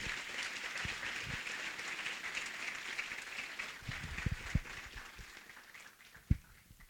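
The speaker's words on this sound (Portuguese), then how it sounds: "peço uma salva de palmas para o Ney Feitosa" An audience applauds for a speaker at a Brazilian seminar event, steady clapping at moderate distance that thins out toward the end with a few last scattered claps.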